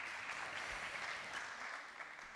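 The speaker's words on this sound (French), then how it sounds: "J'espère que vous allez l'applaudir." Steady audience applause fills a conference hall at a forum on digital innovation and ecological transition, a dense, even patter of many hands clapping without pause.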